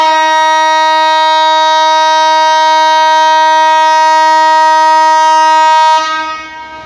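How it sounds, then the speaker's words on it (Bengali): Long, loud, steady horn blast from locomotive 6612 hauling the Sundarban Express as it departs a suburban platform bound for Khulna, holding an unbroken multi-tone chord for about six seconds before cutting off abruptly. "লম্বা হর্ন দিয়ে 6612 লোকোমোটিভ সমেত এই সুন্দরবন এক্সপ্রেস ট্রেনটি 8 নম্বর শহরতলি প্ল্যাটফর্ম থেকে খুলনার উদ্দেশ্যে ছেড়ে যাচ্ছে।"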